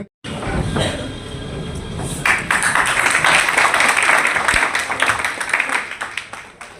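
Applause breaks out at a Muslim brotherhood gathering hosted by a political party in a banquet hall, a dense wash of many hands clapping that swells after a brief start and holds steady before thinning toward the end.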